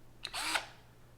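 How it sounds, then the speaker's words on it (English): A short, close burst of a power drill on a plastic speaker casing, whirring up and cutting off, lasting under half a second. "got this here drill"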